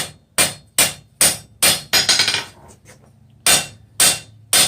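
Hammer blows ringing on hot steel over an anvil while forging a bick iron, about a dozen sharp, close strikes in a loose rhythm, with a quick flurry in the middle and a short pause before the last few.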